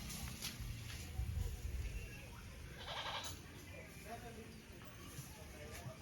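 Goats bleat a few times in the background over steady outdoor noise, with low rumbling and faint voices nearby.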